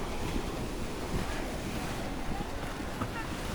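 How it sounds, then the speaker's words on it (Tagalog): Loud, continuous surf of strong ocean waves crashing on a beach at Playa Simeona, Bagac, Bataan, a dense rushing roar with wind buffeting the microphone throughout. "Lakas ng alon guys oh."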